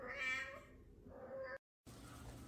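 A mother cat meows near a kitten and a human baby, a few close, tonal calls in the first second and a half, then a short dropout before steady room noise.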